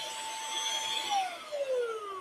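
A rechargeable lithium handheld vacuum cleaner with USB-C charging runs close by, giving a steady high motor whine whose pitch sags and slides lower partway through, with no talking.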